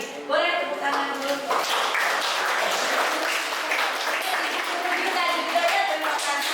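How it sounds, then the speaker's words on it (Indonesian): Students and a lecturer applaud together in a university classroom at the end of a lecture, a steady, dense round of clapping lasting several seconds at close range. "Boleh tepuk tangan dulu."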